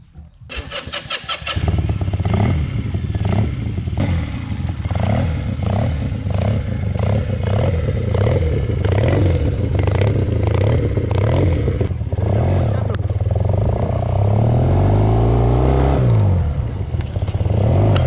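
A modified Honda CM125T motorcycle fires up with a clattering start, then settles into a loud, close, steady engine note with rhythmic pulses and a rising rev near the end, on a ride toward Galle.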